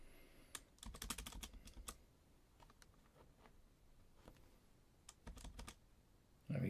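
Typing on a computer keyboard: quiet bursts of rapid key clicks in irregular clusters with pauses between, fairly close but soft, over faint room noise, and a brief louder bump at the end.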